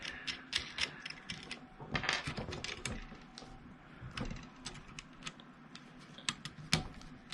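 Small metal clicks and ratcheting come from a fastener being tightened on a Channel Master TV antenna assembly, a quick irregular run of faint, close ticks and rattles with no talking.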